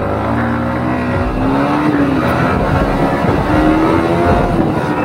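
Yamaha MT-15 motorcycles, version 2 and version 3, roar in a drag race, loud sustained engine drone with rising whining revs sweeping upward, steady and close throughout.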